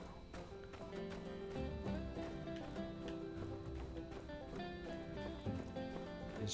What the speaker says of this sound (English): His horses.